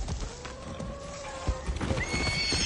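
A horse in the video game Far Cry 6 lets out a sustained whinny, then hooves clip-clop loudly and close in a brisk, uneven series as a second high neigh rises near the end.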